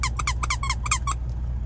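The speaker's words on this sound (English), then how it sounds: "he loves to squeak those things" A dog's Halloween-themed squeaky toy squeaks in rapid bursts, about eight sharp squeaks in quick succession and close up, over a steady low hum.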